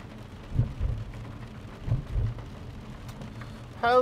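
Heavy rain pours steadily during a thunderstorm on a city street, with two deep rolls of thunder rumbling out at a distance and a brief louder burst of noise near the end.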